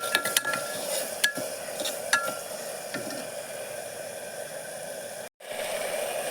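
Onions and tomatoes, seasoned with rock salt, cooking in a pan for beetroot and green pea biryani, with a soft sizzle beneath a few sharp spoon clinks and stirring scrapes, then a brief gap.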